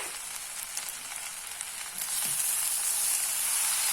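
Jackfruit taco filling with coriander powder, chili powder, garam masala and chaat masala sizzles steadily in a pan, a close hiss that grows louder partway through, with a faint scrape of stirring.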